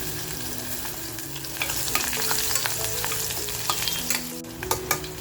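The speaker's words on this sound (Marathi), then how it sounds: "तेल बघा छान तापलंय. तेजपत्ता टाकूया आणि लगेचच आपण चिरून घेतलेली जी लसूण आहे ती लसूण टाकून घेऊया." Chopped garlic and bay leaf sizzle in hot oil: a steady, close frying hiss with crackling pops that grow busier toward the end, heard alone without voices.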